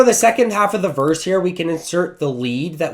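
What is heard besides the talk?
No everyday noises stand out.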